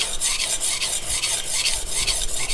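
A Yoshikazu Ikeda 210mm White #2 honyaki gyuto being sharpened on a whetstone, the blade drawn in steady back-and-forth strokes that give a close, continuous scraping rasp with a regular rhythm and no talk.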